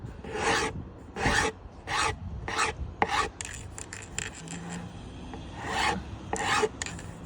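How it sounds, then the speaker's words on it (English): Electric planer chamfering a worktop edge at an angle, heard as a series of rhythmic rasping strokes, about a dozen close passes with short gaps between them. "As I'm running my planer, I'm running it on an angle."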